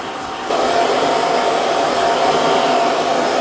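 A hair dryer switches on half a second in and blows steadily and loudly, drying a man's freshly cut hair back during a 90s-style middle-part taper haircut.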